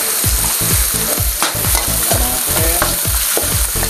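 Onion and garbanzos fry in a pot for beef pochero, a steady close sizzle broken by a regular rhythm of spoon scrapes and knocks as the mixture is stirred, with no talking.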